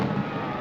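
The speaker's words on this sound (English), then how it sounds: "There go the fireworks." Fireworks going off at a display that includes Roman candles, a dense sustained crackling burst filling the short stretch, loud and near, with no speech over it.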